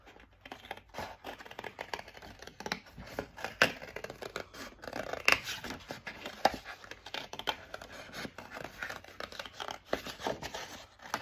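Scissors fussy cutting scrapbook paper give a steady run of small, close snips and paper rustles, irregular but continuous, quiet and unaccompanied by talk.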